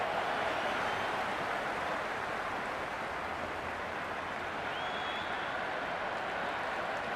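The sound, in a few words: stadium crowd cheering in Cricket 26 video game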